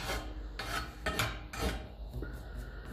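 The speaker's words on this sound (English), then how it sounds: "Make sure there's no burrs in it." A hand file rasps across a hard metal exhaust pipe for a 1954 Ferguson TEF 20 diesel tractor, deburring the cut edge in several close, rhythmic strokes with no speech.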